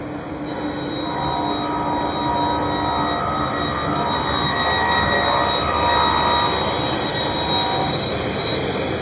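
A sliding table saw cuts through a wood panel fed at a constant speed: a loud, steady high-pitched blade whine over a broad roar that starts abruptly, holds evenly for about seven seconds, then drops away as the cut ends.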